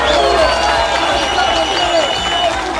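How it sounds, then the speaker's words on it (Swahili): A crowd at an outdoor political rally claps and cheers with a few whoops, a loud, busy roar with voices calling out through it. "mpigieni makofi."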